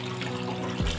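Tap water runs steadily over freshly cut fish being washed in a home kitchen, a continuous close splashing trickle with a heavier gush near the end.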